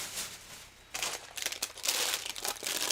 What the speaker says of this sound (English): these are not numbered bags, so we'll just open them all up